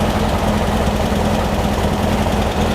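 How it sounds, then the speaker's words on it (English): The air-cooled engine of a Beck 550 Spyder replica idles too high, holding a loud, close, steady rumble with a constant throb and no voices over it. "The idle's obviously too high as well."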